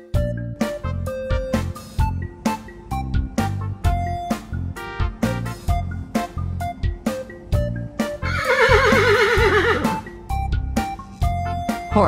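A horse neighs in a farmyard, a loud descending whinny lasting over a second, rising out of rhythmic background music.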